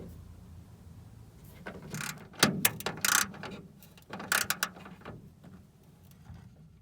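A ratchet snugging down the hood hinge bolts on a Porsche with a long hood fitted, bursts of close clicking and metallic rattling in two short clusters, quiet between, no talk.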